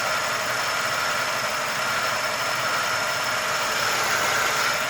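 Steady idle of a Buick Roadmaster LT1 engine with a surging misfire, a continuous close mechanical drone that stays fairly even, with no speech.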